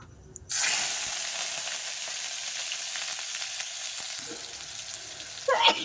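Ground onion paste hits hot oil with a sudden loud sizzle, then a steady, close frying hiss holds throughout, with faint clinks near the end.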